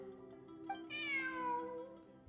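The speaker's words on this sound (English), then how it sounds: "Look, a cat." A cat meows once in the video game Genshin Impact, a clear, rising-then-falling cry standing out over a steady background music bed during ruin exploration.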